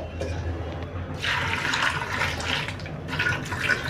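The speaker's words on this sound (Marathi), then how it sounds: "याच्यात थोडं पाणी घालून आपण" Water is poured into a pressure cooker holding potatoes, cauliflower and peas, a splashing gush that starts after a quiet moment, pauses briefly, then resumes, close and clear with no talking.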